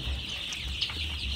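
A flock of eight-day-old Sonali super hybrid chicks on a winter morning keeps up a continuous, shrill chorus of peeping and chirping, close and steady with no talking.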